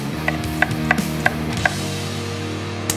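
A knife chops an onion into small cubes on a board: about five evenly spaced, crisp taps in the first half, then quiet, over steady background music.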